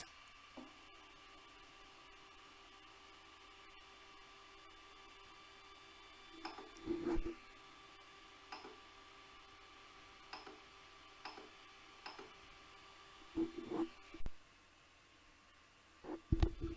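An extruder on a Creality Ender 3 Pro 3D printer pushes filament, giving faint, regularly spaced ticks and short motor whirs over a quiet steady hum.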